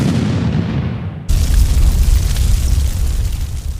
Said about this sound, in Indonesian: Sampai tiba-tiba terdengar suara dentuman yang sangat keras.